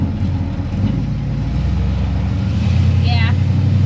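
A 1957 Chevy Bel Air engine idles with a rough carburetor idle circuit, a loud, steady low rumble with a slightly uneven throb, continuous and close, with a brief squeak near the end.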